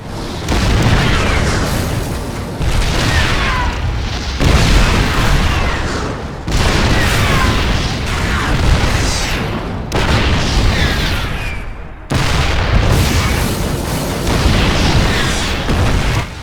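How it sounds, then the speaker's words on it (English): Siege tank in artillery mode firing twin shock cannons in the StarCraft 2 game, a steady run of loud, heavy booming blasts in long dense bursts separated by brief pauses. "When deployed in artillery mode, their weapons convert into 2 shock cannons with longer range and greater damage."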